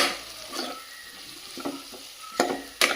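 A homemade snack frying in hot oil: a steady low sizzle, broken by a few scraping stirs and a couple of sharper utensil knocks against the pan near the end.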